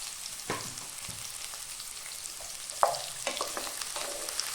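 Thinly sliced onion sautéing in a pan for a chicken dish, a soft continuous sizzle with a few sharp scraping strokes and a small clink midway, close and without speech.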